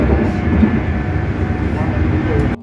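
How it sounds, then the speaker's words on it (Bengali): A nearly empty late-night London tube train runs with a steady low rumble and rattle that stays loud throughout, then stops abruptly at the end; a voice may be present under the noise. "পুরো ট্রেন একদম ফাঁকা"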